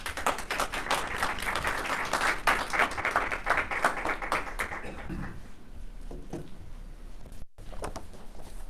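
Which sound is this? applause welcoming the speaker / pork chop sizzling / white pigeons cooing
applause welcoming the speaker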